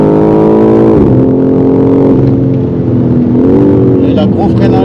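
A BMW M4 G82 Competition engine drones loudly and close on a racetrack, its pitch dropping sharply near the one-second mark, holding steady, then climbing again as the car pulls on toward the pit lane.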